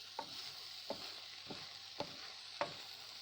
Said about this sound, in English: Give that a good stir around, working that cumin